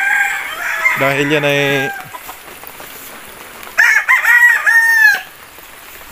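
A Benedict Granada line rooster, shipped from Zamboanga, crows twice nearby: one long harmonic crow early, then a second rising crow a few seconds later, with faint talk between.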